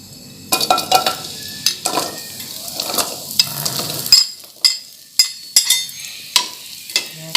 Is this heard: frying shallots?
yes